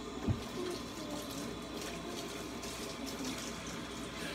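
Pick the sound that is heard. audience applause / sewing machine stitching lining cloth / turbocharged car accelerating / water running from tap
water running from tap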